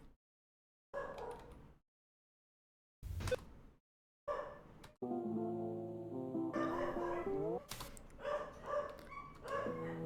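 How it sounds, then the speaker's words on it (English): Dogs bark outside, faint and distant, in short separated bursts with gaps between them. A steady tonal hum joins the later barks. "Sorry for the dogs barking outside."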